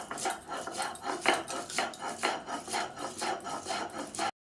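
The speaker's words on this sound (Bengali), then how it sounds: "এবার আমি অল্প কটা সাদা সর্ষে, কিছুটা কালো সর্ষে আর দুটো কাঁচা লঙ্কা নিয়ে বেটে নেব।" Rhythmic rasping grind of white and black mustard seeds with green chilies being crushed on a stone, steady repeated strokes close by with no talking.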